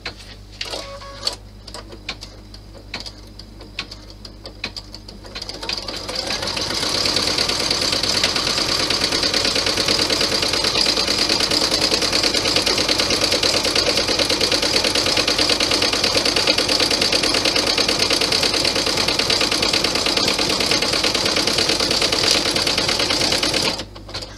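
A sewing machine stitches a clutch bag, starting with a few short clicks and taps before running in one continuous, fairly loud mechanical whir for nearly twenty seconds, then stopping.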